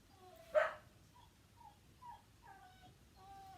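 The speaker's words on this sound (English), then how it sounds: "And you hear the dogs." Dogs indoors give one sharp bark followed by a string of faint whimpers and yips, somewhat distant and quiet, with no one speaking over them.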